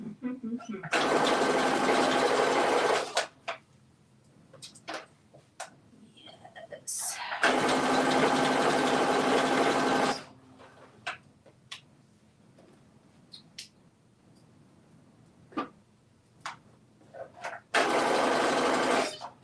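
A sewing machine runs in three long, steady bursts of stitching, the first two lasting about three seconds each and a shorter one at the end. Quiet clicks and handling noises fill the pauses, and people talk between the runs.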